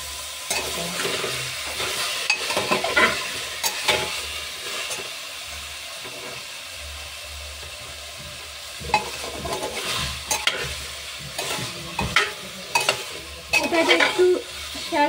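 Chicken feet shallow-fry in oil in a pan with a low sizzle, while a utensil stirs them, giving repeated scraping and clattering knocks against the metal throughout.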